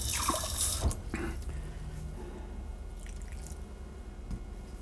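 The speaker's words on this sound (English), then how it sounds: "A little more water." Water added to masa flour dough in a kitchen, a brief splash and trickle at the start followed by soft drips and quiet handling sounds.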